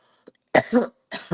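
A person coughs, one small throat sound followed by a pair of strong, close coughs and then another double burst, quiet room around them.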